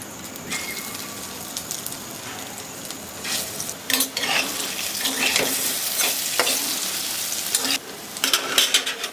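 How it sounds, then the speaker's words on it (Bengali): Lentil fritters fry in hot mustard oil in a wok, giving a continuous close sizzle broken by sharp bursts of crackling and occasional stirring or utensil clatter, with no talking. "সবার আগে ডালের বড়াটা ভেজে নেব।"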